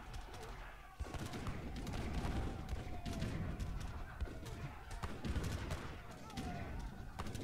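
Rapid, dense volleys of organ guns and cannons firing in an Age of Empires III deathmatch battle, a continuous crackle of overlapping shots and booms lasting throughout, with commentators talking over it.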